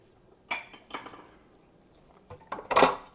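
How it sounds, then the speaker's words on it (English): Metal mixer beaters knocked against a bowl rim while being cleaned off after mixing cake batter, a few sharp clinks and taps spaced out, ending in a louder cluster of clattering knocks. "Hit our beaters. Get them cleaned"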